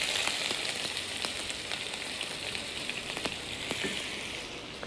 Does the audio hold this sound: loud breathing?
no